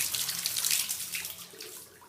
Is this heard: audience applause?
no